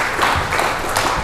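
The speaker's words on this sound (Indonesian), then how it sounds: "Ya, tepuk tangan dulu buat kita nih." Audience applause from a seated crowd at an Indonesian government sharing session, a short steady patter of many hands clapping at moderate loudness with no voices on top.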